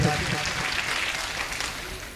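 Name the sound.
audience applause at poetry gathering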